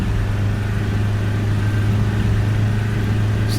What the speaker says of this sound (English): it just sounds like an old petrol engine